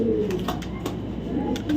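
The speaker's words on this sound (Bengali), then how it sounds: "কবুতরটা 6 থেকে 7টা রেস করা আছে" A thick-bodied male racing pigeon coos up close in a few short, throaty bursts over a low background hum.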